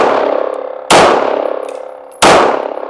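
Gun firing NATO ammunition at a range in Finland: two loud, sharp shots about a second and a half apart, each followed by a long ringing decay, close and with no talk.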